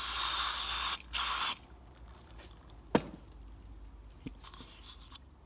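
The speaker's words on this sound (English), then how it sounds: "I have a bit of brake cleaner here to wash everything out with" Brake cleaner sprays in two hissing bursts onto rebuilt G60 brake calipers and master cylinder parts, loud and close, followed by a few faint clicks and drips in a quiet workshop.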